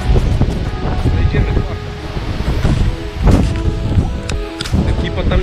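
Wind blows on a mountain hike near Szczyrk, Biały Krzyż and Malinowska Skała, gusting hard into the microphone in loud rumbling buffets, while a person speaks briefly over it.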